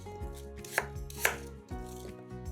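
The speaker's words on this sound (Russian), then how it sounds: "Яблоки нарезаем небольшими кусками." A knife cuts through apples on a board with a few distinct chops and slicing strokes, close and fairly quiet.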